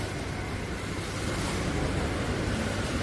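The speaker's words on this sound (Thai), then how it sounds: "น้ำตกกับน้ำพุเล็กๆน้อยๆครับ" A small indoor waterfall and fountain inside a Central Sriracha shopping mall give a steady, moderate rush of falling and splashing water, continuous with no breaks and no voices over it.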